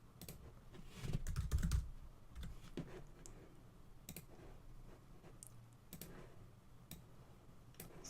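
Keyboard typing while test steps are written in the Katalon Studio automation tool: soft, irregular key clicks at close range, with a denser burst early on and then scattered taps.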